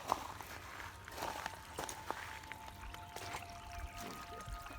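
Water flows through a low creek with a faint, quiet trickle and pour. Soft scattered footsteps and rustles sound close by.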